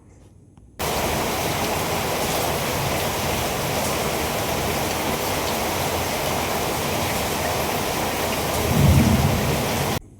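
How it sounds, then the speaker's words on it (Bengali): Heavy thunderstorm outside, a dense, steady roar of pouring rain that starts suddenly and holds loud and unbroken, with a deep rumble of thunder swelling near the end. "বাইরে প্রচণ্ড ঝড় বৃষ্টি হচ্ছে"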